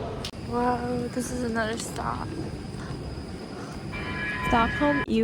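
Station ambience at a train station in Sweden, with rumbling rail noise, a high tonal squeal and bright chiming tones, under indistinct voices and steady background hum.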